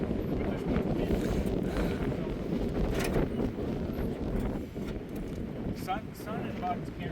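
Strong wind buffets the microphone outdoors at an abandoned airport, a loud continuous roar with gusty swells, while a person talks through it.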